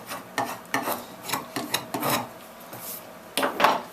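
A draw knife whittles wood in a series of short, rasping shaving strokes, roughly eight close scrapes in an uneven rhythm with brief pauses between, no voices.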